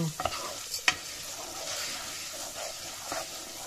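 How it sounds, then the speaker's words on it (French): Rice for a porcini risotto is stirred in a hot pan, with continuous scraping and shuffling of grains against the pan over a light sizzle and a few sharper clinks of the spoon. "Alors c'est quand même une recette où ça touille."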